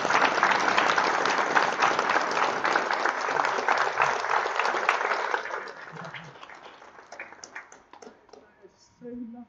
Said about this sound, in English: So I don't know if we can extend a big round of applause to James.